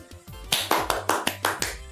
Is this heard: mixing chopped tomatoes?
no